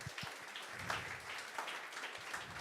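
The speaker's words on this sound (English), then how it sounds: "Big round of applause for him." Faint, distant applause from a conference audience in financial services, greeting Dr. Dominic as he comes up for the startup demos; a soft, steady patter with no voices over it.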